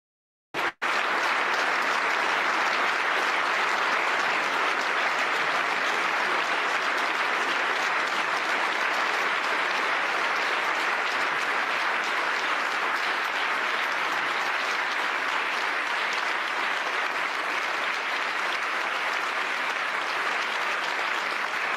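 Loud, sustained applause from a large audience for Zelensky, a dense unbroken wash of clapping lasting over twenty seconds without a pause.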